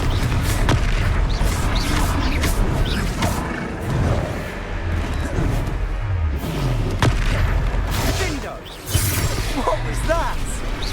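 A Confringo spell explosion in the Hogwarts Legacy video game booms loudly amid a dense battle mix of whooshes, bursts and pops, with voices shouting over the constant combat din.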